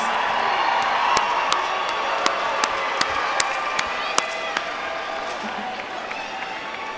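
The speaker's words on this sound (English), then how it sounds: "give them your rousing applause" A large crowd at a university graduation ceremony applauds and cheers steadily, with sharp claps and occasional whoops standing out above a dense, continuous wash of clapping.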